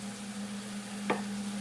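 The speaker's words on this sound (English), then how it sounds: "I'm hearing that pot sizzling in the background." Rabbit and mushrooms sizzling in a pot on the stove in the background, a faint, steady frying hiss under a constant low hum, with one brief clatter partway through.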